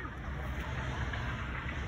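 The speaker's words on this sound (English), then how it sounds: "Oh, it's the tractor thing" A tractor runs nearby as a steady low rumbling drone, continuous and fairly even for the whole stretch, with some wind-like noise on top and no clear talk.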